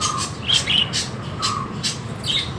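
Several lovebirds chirp and tweet in short, bright bursts and trills at a close distance in a home setting, the calls repeating irregularly over steady low background noise with no talking.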